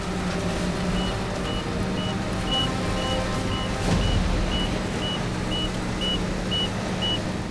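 Warning alarm on a heavy recovery crane lifting a truck out of a roadside ditch, a regular string of short high beeps repeating about every half second over steady engine rumble and outdoor noise.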